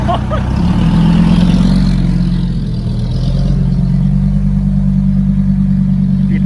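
A farm tractor engine chugs steadily and loudly as the tractor moves forward at a road construction site where sand base is being hauled for a new road. The low mechanical rumble is continuous throughout, with no speech.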